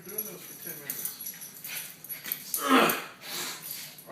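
Dog whining and whimpering in a home, soft high whines and small yips scattered through the clip, heard close by among people talking.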